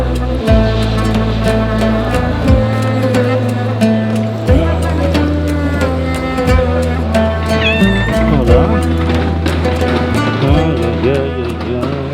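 A street cat in Istanbul meows, its short rising and falling cries coming through a loud, busy background of steady tonal sound.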